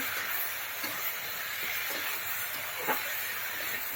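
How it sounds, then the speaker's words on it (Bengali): Cauliflower fries in hot oil in a home kitchen, giving a steady, close hiss and sizzle that holds evenly throughout with faint crackles. "আমি তেল দিয়ে ফুলকপিটা ভেজে নিচ্ছি"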